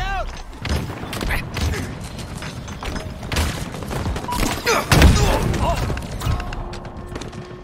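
A grenade blast and gunfire in a Halo Infinite multiplayer match: rapid bursts of shots with heavy booming hits, one thumping explosion standing out near the middle, with game voices mixed in.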